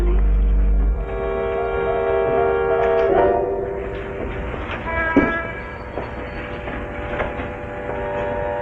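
A fast train runs through a 1949 radio drama scene. The rumbling rolling noise is steady and carries tonal squeals and clanks, with a sharp knock about midway. No voices are heard.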